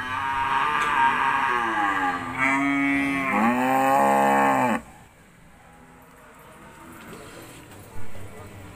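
Cattle at a livestock market in South Kalimantan, including Limousin breeding cows, let out a long, loud, close moo with harmonic swells, followed by quieter market background noise and a brief knock.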